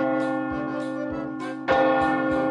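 Boy in a bell tower imitating a big church bell, a deep ringing bell tone with sustained resonant strokes repeating steadily, loud and reverberant, growing stronger toward the end.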